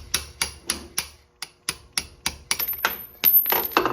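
A quarter coin tapped loose from a metal vise, a steady series of sharp metallic knocks about twice a second, growing busier and more rattly toward the end.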